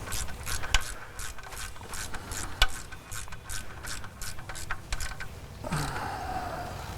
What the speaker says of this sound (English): Get this tightened up here.